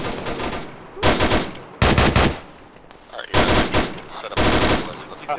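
Loud, close bursts of automatic rifle fire in the military shooter ArmA, several rapid strings of shots separated by short pauses.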